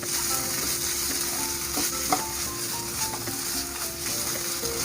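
Coconut burfi mixture stirred steadily in a pan over a low flame, with a continuous soft sizzle and repeated scraping of the spoon against the pan, close and even throughout.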